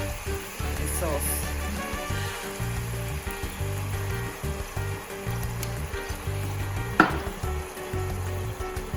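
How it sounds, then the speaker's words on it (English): Birria sauce poured and strained in a kitchen for birria tacos, a steady liquid stream with sizzling and frying texture running throughout, fairly close, with a brief sharper clatter near the end. "Now we're gonna pour the sauce."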